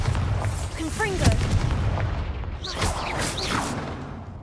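Bombarda and Confringo spell blasts in the video game Hogwarts Legacy, two heavy booming explosions with whooshing sweeps, loud and close, one after the other.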